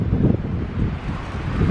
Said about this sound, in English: feel that wind? You must hear it.